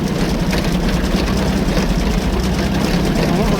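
A tractor engine idles steadily close by with a low, continuous rumble and no change in pace, while the steering is turned from lock to lock.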